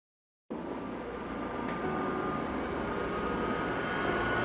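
A jet aircraft sits readying for takeoff in the Ace Combat 7 flight game, its engine a steady, loud broadband roar with a thin whine on top, holding unbroken throughout after a brief silent start.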